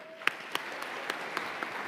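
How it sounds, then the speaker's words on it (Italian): Sparse, quiet clapping from a conference audience at the Barcolana Sea Summit on energy and climate, a handful of separate hand claps spread over under two seconds. "Un applauso!"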